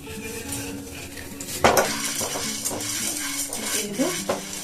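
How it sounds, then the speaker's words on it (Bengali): Chana dal frying in a pan: a low sizzle under clinking utensils and scraping stirs, with a sharp clatter partway through, and someone talking over the cooking. "ছোলার ডালটাকে আমি ভেজে নেব"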